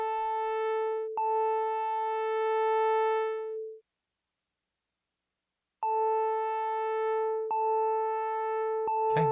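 A steady, pure synthesizer tone from a Liven XFM holds for several seconds, drops to silence, then returns just as steady, with faint clicks as it starts.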